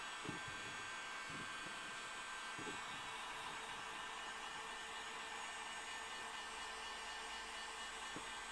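A hair dryer blowing on interchangeable craft decor inserts, a constant whooshing fan drone that stays steady and fairly faint throughout, with a few soft low knocks near the start.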